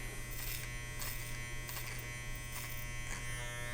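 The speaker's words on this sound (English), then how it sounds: "we're going to continue working clipper over comb" Electric hair clippers buzz steadily and close, working clipper over comb through hair with a constant motor hum and brief cutting swells, no talking.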